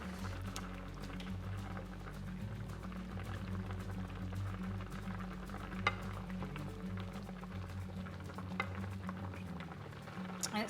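A turmeric paneer curry bubbles quietly in a pot, a faint, steady simmer with soft popping, and nobody speaks over it.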